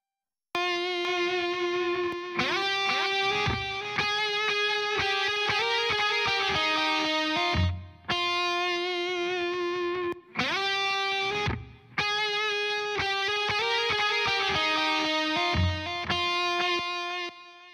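A delay effect with feedback repeats a distorted electric guitar signal in a recording studio, sustained tones echoing and layering continuously, loud and dense with brief gaps.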